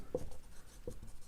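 Pen scratching out a handwritten answer to a constitution quiz question, a few faint short strokes in quiet room tone, with no talking over it.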